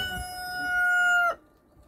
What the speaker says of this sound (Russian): как поют петухи